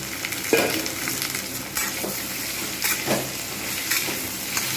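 Boiled taro pieces fry with browned potatoes in a pan, a continuous close sizzle broken by a few stirring scrapes, no one speaking.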